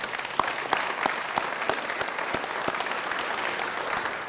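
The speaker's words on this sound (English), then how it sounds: "So let's give a round of applause to our leaders." Applause from the audience at the dedication ceremony of a university fitness and recreation center, with many hands clapping and sharp individual claps popping out of a moderately loud, steady crowd.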